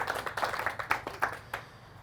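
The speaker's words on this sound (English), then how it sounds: "there's a clap there." Sparse, faint handclaps from a presentation audience, a handful of separate claps spread over two seconds in a quiet room.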